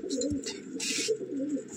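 Madrasi breeding-loft pigeons give soft, throaty rolling coos, a few phrases close at hand, broken by a brief hissing rustle in the middle.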